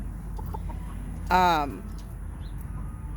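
A cockerel in a yard gives a single short crow-like call, fairly close, over low background noise, with a person's voice heard briefly.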